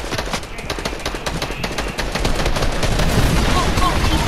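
Dense, continuous gunfire from a Fortnite match, rapid shots running throughout and growing louder in the second half, with players' voices mixed in underneath.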